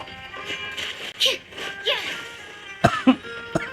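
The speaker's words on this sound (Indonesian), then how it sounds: "Aduh sampai batuk." A few coughs and throat-clearing sounds up close, mixed with voices and sharp percussive clicks from nearby.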